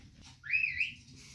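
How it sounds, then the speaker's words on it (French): One short rising whistle is heard in a Barbie film scene, a faint, thin tone that sits over a low murmur of background noise. "J'ai cru qu'ils avaient sifflé."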